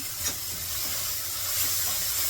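Chopped onion with salt sautéing in a hot pan, giving a steady, even sizzling hiss throughout with no talk.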